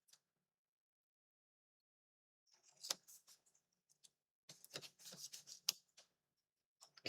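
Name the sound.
scissors cutting patterned paper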